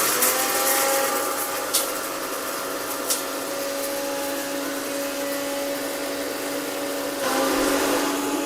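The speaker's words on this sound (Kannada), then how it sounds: "ಈಗ ಗ್ರೈಂಡ್ ಮಾಡೋಣ. ಏನು ಮಾಡೋಣ? ಮಿಕ್ಸಿ ಮಾಡೋಣ." A kitchen mixer grinder whirs steadily and loudly for several seconds grinding rasam ingredients, with a brief change in pitch near the end.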